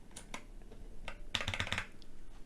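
A keycap pressed onto a Cherry Red switch of a cheap USB macropad, giving a few light plastic clicks and taps, then a quick cluster of snappy clacks as it seats, close and fairly quiet.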